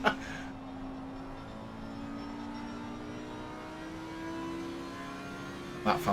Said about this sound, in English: That fantastic sound of the Audi.